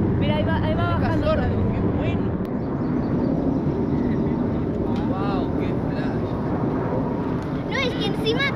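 Loud, continuous low roar of a low-flying airplane's engines filling the whole stretch, with a voice briefly talking over it and some passing tonal whines near the end.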